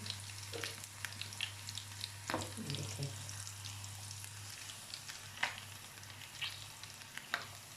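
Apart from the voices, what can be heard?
cumin and chillies sizzling in hot oil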